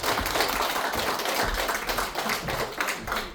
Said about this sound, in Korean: 끝까지 남아주신 우리 내빈분들께 서로 격려의 박수 좀 부탁드립니다.